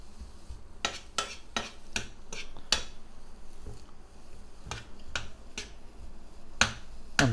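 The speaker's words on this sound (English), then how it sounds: "can you hear the sizzle now?" Chili tuna frying in a hot pan throws out scattered sharp crackles and pops over a faint, low sizzle, close by and fairly quiet.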